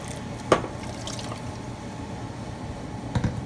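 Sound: water being poured into a pot for kadhi

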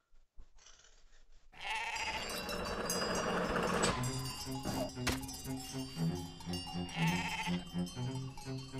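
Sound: sheep bleating in the video game Gomo

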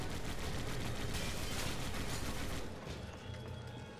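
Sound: gunfire in the video game Resident Evil 5

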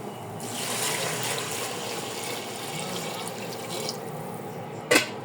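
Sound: water being poured onto fried rice for khichdi

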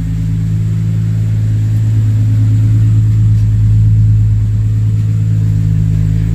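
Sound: Lexus GS300 single-turbo 2JZ-GTE VVTi engine exhaust idling

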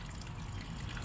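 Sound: warm water running from a pipe

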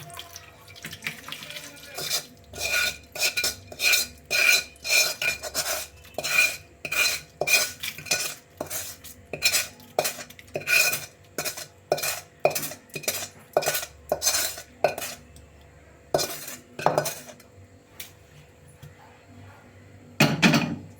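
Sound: stirring tempering into chutney in a pan

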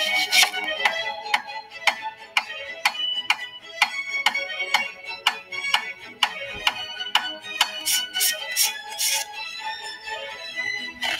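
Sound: onion being chopped or dropped in an ASMR cooking video

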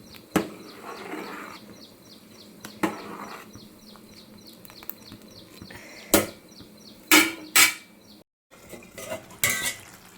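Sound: stirring cooked rice in a pot for pulihora

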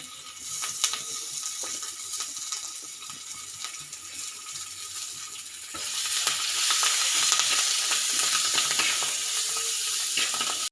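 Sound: garlic, ginger, green chillies and curry leaves frying

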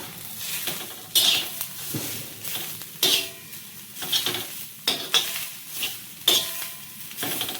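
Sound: stirring roasted cumin and sesame into methi chicken in a pan

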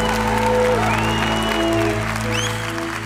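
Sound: audience applause at church concert

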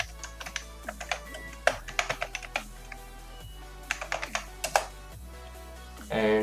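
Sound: typing an email on a computer keyboard

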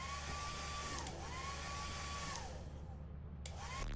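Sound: hair dryer item running in video game Lethal Company

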